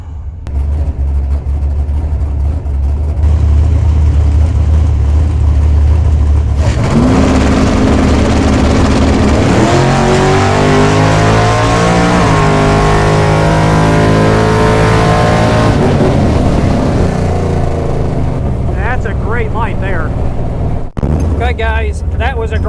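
Super Pro drag race cars launch from the line, one a fast Mopar, with loud engines roaring and revving up through rising gear sweeps before fading away; talk comes first and the roar stays loud and steady throughout.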